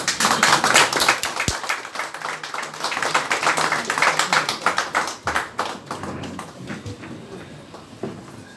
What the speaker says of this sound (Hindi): तालियों से स्वागत तो किया जाए